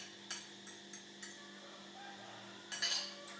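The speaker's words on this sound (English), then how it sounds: "we're gonna add our chia mixture into our to-go cup" A spoon clinks against a to-go cup several times as a chia pudding mixture is scooped in, with soft, sharp taps spaced apart and a brighter clatter near the end.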